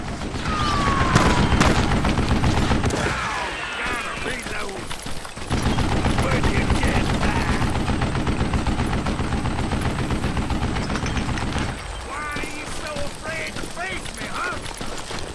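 Gunfire in the Western shooter game Call of Juarez: Gunslinger, loud dense bursts of shots with mechanical clatter, broken by brief lulls, under intermittent spoken game dialogue.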